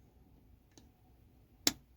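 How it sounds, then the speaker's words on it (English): A Truma water heater relay gives one sharp click as the burner switches off, preceded by a faint softer tick over quiet background hum. "you'll hear a click from the relay that indicates that the burner has been switched off"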